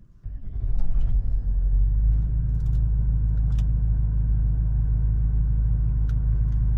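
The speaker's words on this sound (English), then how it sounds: "Alright, so we've started the car" A Toyota Land Cruiser 200 Series engine cranks and starts, then settles into a steady, deep idle rumble, loud and close, with a few faint clicks over the running engine.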